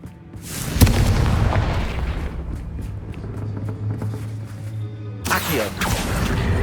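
A Confringo blasting spell detonates in Hogwarts Legacy: a heavy, close boom followed by a sustained rumbling roar, then a second sharp burst near the end.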